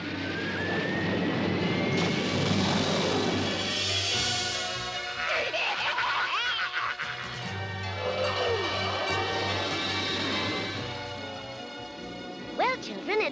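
A cartoon bus jet flies along with a steady, fairly loud engine roar and whine, heard alone without talk as the jet loses power.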